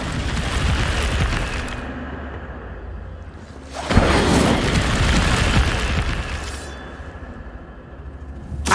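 A fire spell cast in a video game roars out as a sustained loud whooshing burst, fading, then flaring again in a second bright blast before tapering, with no talk over it.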